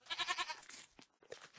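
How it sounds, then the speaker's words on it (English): A goat bleats in a video game: one short, nasal, wavering call up close, then a couple of fainter clipped bleats, with no other sound around them. "Oh, it's a goat."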